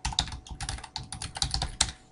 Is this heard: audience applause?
no